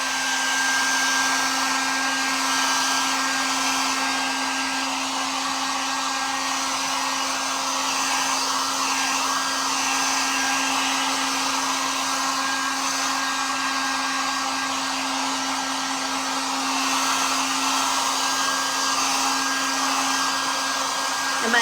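Hair dryer drying paint on a Dollar Tree bag, one loud, continuous close-up blowing whine with a steady motor hum, unbroken throughout.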